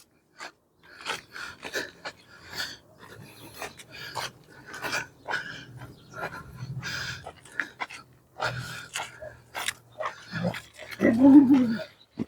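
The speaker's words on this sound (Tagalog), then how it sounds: "naririnig na tumatahol si Tag Tagpi" Puppies and dogs bark in short, scattered bursts throughout, close by on a road, with panting and rustling in between and a louder burst near the end.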